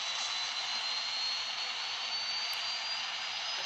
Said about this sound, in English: That plane is currently leaving.